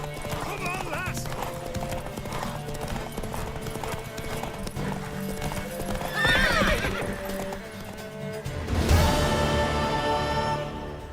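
Horse hooves clip-clopping at a gallop in The Witcher 3, a steady rapid beat joined by a loud neigh midway and a sharp whinny near the end, with voices over parts of it.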